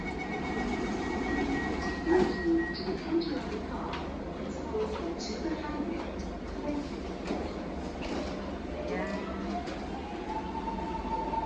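A Singapore MRT metro train rumbles steadily along with low mechanical drone and rattles, while people chat and a few brief tones sound over it.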